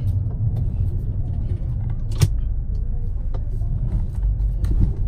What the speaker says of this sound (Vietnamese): chỉ có tiếng lốp thôi quý vị nhé